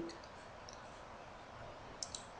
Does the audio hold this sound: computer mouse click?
yes